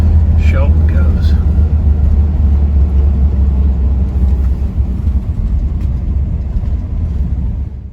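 A truck engine idles steadily after a cold start in a rusty old garage, a low continuous rumble with faint clinks near the start, loud and alone without talk.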